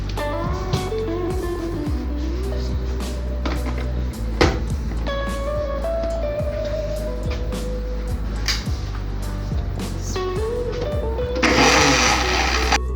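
A kitchen blender whirs while mixing crepe batter with salt and melted butter, a steady motor drone with shifting pitch that surges into a louder, rougher whir near the end.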